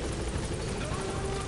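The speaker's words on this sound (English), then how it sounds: "Pick it up and put it on the helicopter." Helicopter rotor drone in Metal Gear Solid V, a continuous, fairly loud throbbing that holds steady from start to finish.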